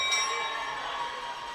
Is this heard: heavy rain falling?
no